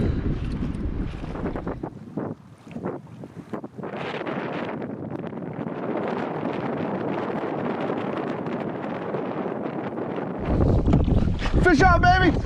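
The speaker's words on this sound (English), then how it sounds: "We have about a 15-mile-an-hour west wind that's blowing us directly down this bay." A sailboat runs down a bay before a steady 15-mile-an-hour west wind, with heavy wind buffeting and rushing water throughout and a brief voice near the end.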